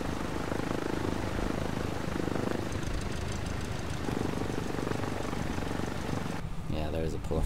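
Simulated Cessna 172 engine drone while taxiing in Flight Simulator X, a steady propeller hum filling the whole stretch with a brief change near the end.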